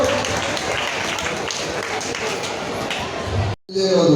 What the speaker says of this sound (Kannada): ಜೋರಾದ ಚಪ್ಪಾಳೆ ಮೂಲಕ ಅವರನ್ನ ಸ್ವಾಗತಿಸಬೇಕು